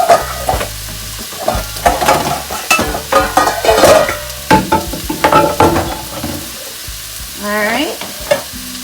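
Veggie bacalao fries in a pan, about four pieces at a time, with a loud, steady sizzle close by and clattering utensil scrapes and knocks as the pieces are stirred and moved.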